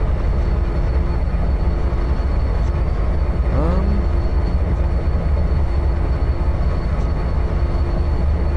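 A steady, loud rumble of a video game Grand Trunk Western train rolling along in Trainz, with a brief squealing whine midway through; no voices, just continuous rail noise throughout.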